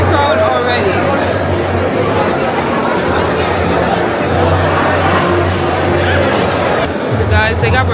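Dense crowd chatter and hubbub fill a stadium concourse at the AFCON Senegal versus Morocco match, steady babble with scattered laughter close around.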